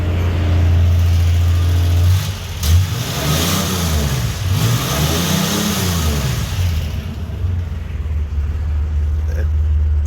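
The Essex 3.0 V6 in a 1978 Reliant Scimitar GTE revs up loudly through several rising and falling sweeps, then settles back to a rough idle, heard close and alone.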